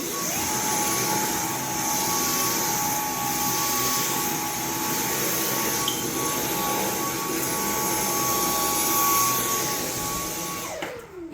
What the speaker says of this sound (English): I need to vacuum up a little bit where I was working right here